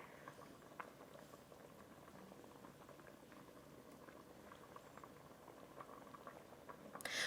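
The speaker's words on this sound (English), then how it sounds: "let this stew simmer for about 10 to 15 minutes" Chicken and dumpling stew simmering in a Ninja Foodi, a soft, continuous bubbling and popping, faint and close, with no voices over it.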